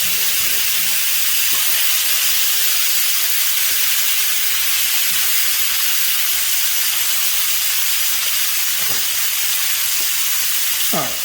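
Pot roast searing and caramelizing in a pot, a loud steady close sizzle and hiss throughout, with a faint stir or scrape near the end and no talk.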